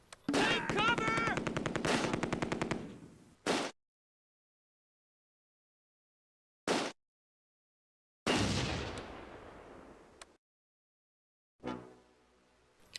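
A heavy machine gun opens up in the Close Combat wartime strategy game at Nijmegen: a long rapid burst of crackling shots, then short isolated bursts and a decaying volley separated by silence.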